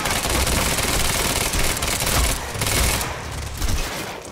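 Rapid sustained gunfire in the video game Quantum Break, dense automatic bursts with brief pauses, loud and close, with no talk.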